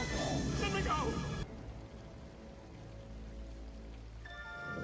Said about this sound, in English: Every epic fight has to happen in the rain.